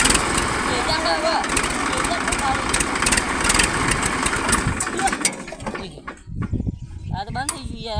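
A tractor engine runs with a loud, steady chugging rumble for about five seconds, then cuts out and stops, leaving people talking close by.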